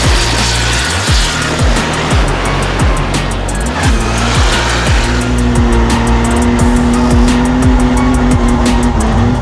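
A Formula Drift car drifting around a Long Beach track, its engine roaring loud and close with repeated revving surges, tire squeal and shifting pitch, no voices over it.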